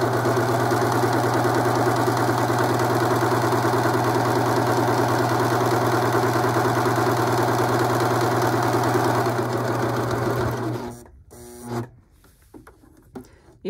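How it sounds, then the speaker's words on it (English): Viking sewing machine stitching and cutting through fabric, a steady, loud mechanical whir with fast regular pulsing that runs for about ten seconds, then stops and leaves a few faint scattered clicks. "I'm going to go ahead and start sewing. When I get right here, then it's going to start cutting fabric."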